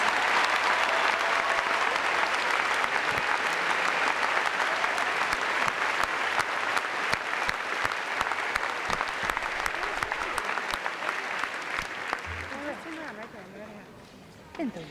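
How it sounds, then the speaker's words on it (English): A graduation audience applauds the seniors leaving to enter the military services, a loud sustained wash of clapping that carries steadily for about twelve seconds before thinning out and fading near the end. "Please give them a round of applause."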